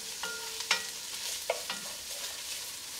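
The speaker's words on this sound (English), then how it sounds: "So you mix that up nice. Let that saute for about a minute more." Anchovy paste, onion and garlic hiss and crackle as they sauté in a pan for marinara, with a few scraping stirs of a spoon over the steady, fairly close sizzle.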